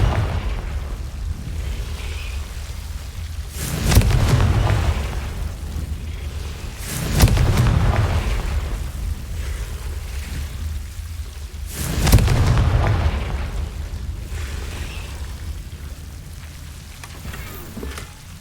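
Confringo blasting spells from Hogwarts Legacy detonate three times, each a loud booming burst with a crackling tail, spaced a few seconds apart over a low rumbling game background.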